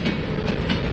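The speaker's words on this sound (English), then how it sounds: "It's one of those battleship gray CN hoppers." A freight train rolling past with battleship gray CN hopper cars in a mixed manifest makes a steady, loud, close rumble with faint clacking and no talk.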